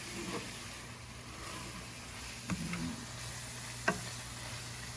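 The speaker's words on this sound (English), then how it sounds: "we're just adding the couple cloves of garlic minced, and then we'll stir that in" Onions and minced garlic browning in a pan, a low steady sizzle near the mic with a couple of sharp spatula taps and scrapes.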